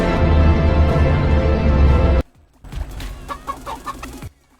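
Cartoonish chicken clucking from the video game Fall Guys, a short burst of close clucks following a loud, dense stretch of game sound that cuts off abruptly, with no talking.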